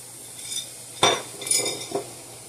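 Metal spoon scraping and clinking in a kadai as dry spices, chilli, coriander powder, whole cumin and kadai masala, are stirred into mutton before oil goes in; a few close, sharp clinks and scrapes.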